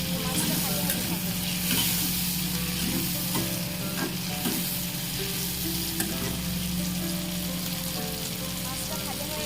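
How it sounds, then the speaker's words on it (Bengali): Salted shrimp crackle in hot oil in a kadai wok, a steady low sizzle broken by scattered sharp pops and light stirring taps at close range. "তো মাছটা ভাজা হতে থাকে।"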